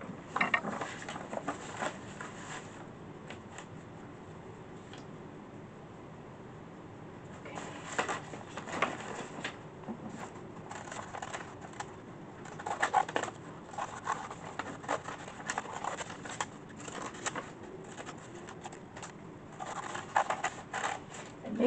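Scissors snip through a folded fabric pattern piece pinned on the fold while making a horsehair facing, giving bursts of close crunchy cutting strokes separated by brief pauses.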